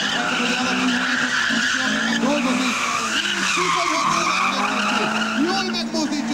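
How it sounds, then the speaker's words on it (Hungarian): A car at an amateur campus racing event skids hard with long wavering tire squeals over a steady engine roar, loud and continuous, while voices carry faintly beneath. "Jól ordít a motor."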